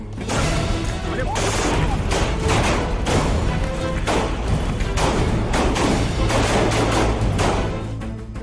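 A dense, loud burst of rapid pistol gunshots, many cracks in quick succession with sharp bangs standing out, continuing for several seconds during a shooting.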